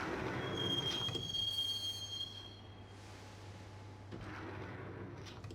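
Inside a subway train in the video game Max Payne, heading to Roscoe Street Station, wheels squeal sharply on the rails over a low, steady rumble of the moving cars, then a fresh surge of track noise.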